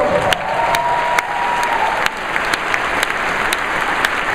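Steady applause from a SXSW 2010 audience, loud and continuous with scattered sharper claps, filling the whole stretch without talk.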